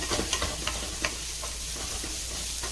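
Orange peel sautéing in a pan over a low flame for an orange pulao, with a steady soft sizzle and a few light stirring scrapes scattered through it, close by and with no talk.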